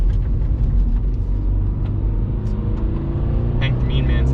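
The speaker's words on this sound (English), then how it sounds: "You do get a decent amount of road noise on the highway." Low, steady road rumble fills the cabin of a 2022 Subaru BRZ sports car cruising on the highway, a constant broadband drone with a few faint high ticks and no speech.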